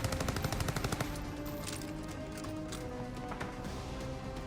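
Rapid gunfire in Call of Duty Warzone on Caldera: a burst of automatic shots up front, then scattered loud cracks over a dense, steady game backdrop.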